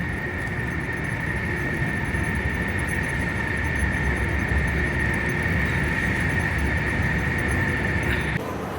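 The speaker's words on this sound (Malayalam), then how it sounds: "അവിടെ വേറൊരു ട്രെയിൻ പോയിക്കൊണ്ടിരിക്കുകയാണ്." A high-speed bullet train passes at a station in China, making a loud, steady rumbling rush with a faint whine running through it. The sound cuts off abruptly near the end.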